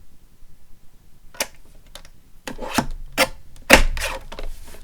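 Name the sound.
trimming a small piece off a paper tag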